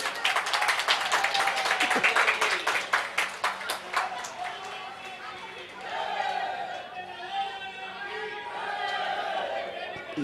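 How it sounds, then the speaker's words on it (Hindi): A crowd of devotees at a religious darbar gathering claps in welcome, dense rapid clapping in the first seconds that thins out as voices and chatter take over. "इनके प्रयास को सबको तालियां बजा के स्वागत करो।"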